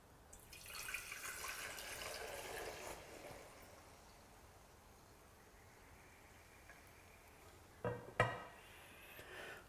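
Milk mixed with bacterial cultures for Greek yoghurt being poured into a container, a soft steady liquid stream fading out, followed by a couple of brief louder clinks and splashes near the end.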